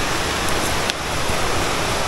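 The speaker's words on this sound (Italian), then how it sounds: "Ragazzi, guardate, abbiamo trovato un torrentello." A small mountain stream on a forest trek flows steadily nearby, a continuous broadband rush of water with no voices over it.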